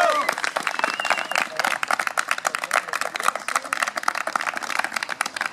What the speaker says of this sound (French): Et on va les applaudir.